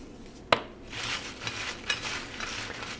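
Homemade McDonald's-style french fries tossed with salt in a bowl: a sharp clink near the start, then soft, quiet rustling and light scraping as the fries shift around.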